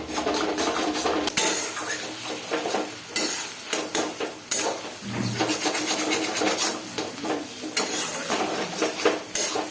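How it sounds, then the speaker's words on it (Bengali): Potatoes are stir-fried in goat fat in a metal pan, with loud steady sizzling under repeated scraping and clanking of a spatula against the pan, close and busy throughout. "আলুটা দিয়ে এটাকে ভালোভাবে একটু কষিয়ে দেবো"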